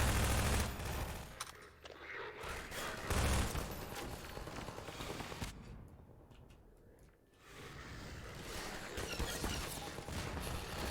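Gunfire and a grenade blast in the video game Half-Life 2, bursts of rapid weapon fire and heavy explosive booms, loud and dense with a brief lull midway.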